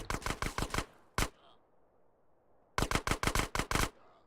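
AK rifle fire in GTA San Andreas, two rapid bursts of about six loud, crisp shots each, with a single shot between them and a short quiet gap, close and clear.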